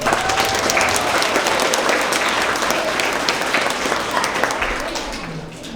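A school award assembly audience applauds steadily and loudly throughout, dense clapping filling the room with a faint voice briefly rising above it.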